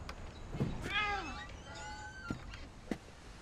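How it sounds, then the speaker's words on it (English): A cat in the video game What Remains of Edith Finch gives a couple of soft, rising meows over a quiet background hum. "There was a cat."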